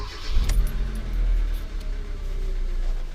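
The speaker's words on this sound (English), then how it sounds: "Let's start the car up." A 2012 Hyundai Accent with high mileage that burns oil, engine starting after a brief crank, then settling into a steady low idle that stays close and even to the end.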